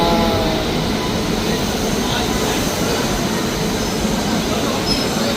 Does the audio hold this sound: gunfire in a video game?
no